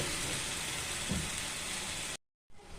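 Tomato and paste frying in a pan for a bottle gourd kofta curry, a steady close sizzle that runs unbroken for about two seconds before a short silence and a quieter return.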